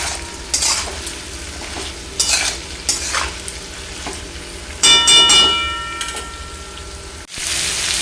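Vegetables fry with salt and turmeric in a pan, a steady close sizzle broken by several loud scraping stirs with a utensil and a brief clatter near the end.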